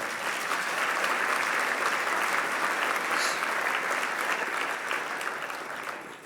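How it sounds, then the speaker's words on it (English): An audience claps loudly and steadily, a dense wash of applause that holds for several seconds before tapering slightly at the end. "Please give them and our staff a round of applause for their great work."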